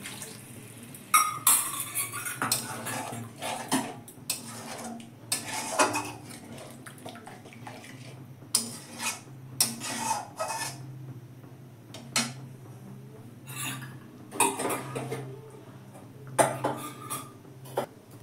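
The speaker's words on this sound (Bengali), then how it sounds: "তো আমি মিক্সিং জারটা ধুয়ে একটু জল দিয়ে দিলাম। দইয়ের বাটিটাও ধুয়ে জল দিলাম।" A mixer jar and a curd bowl rinsed with a little water, mostly clinks and knocks of the vessels with brief splashes and clatter in irregular bursts, close up in a quiet kitchen.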